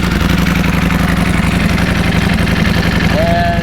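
A loud, close motorcycle engine idling at about 1,000 RPM, around 98 to 100 decibels, with a steady, throbbing low rumble, unbroken throughout.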